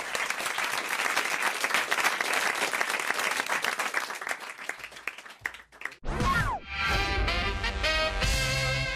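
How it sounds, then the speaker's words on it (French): Studio audience applauding loudly on a French comedy radio show, a dense sustained wash of clapping that breaks off near the end into a musical jingle. "On vous applaudit"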